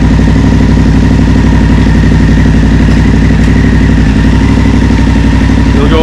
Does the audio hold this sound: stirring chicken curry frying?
no